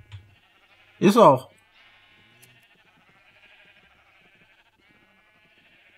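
A sheep in the survival game Pistonhouse Survival lets out a single loud, wavering bleat of about half a second, with people chatting faintly before and after.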